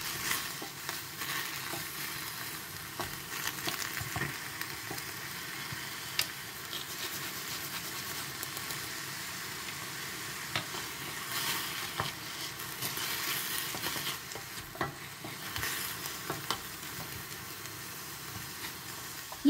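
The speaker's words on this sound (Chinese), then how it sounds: "我只需要把它翻炒透，然后加一点盐就可以了" Broad bean green shoots are tossed and stir-fried in a wok, making a continuous soft sizzle with recurring scraping and rustling stirs that swell and fade over about twenty seconds, fairly quiet and with no speech.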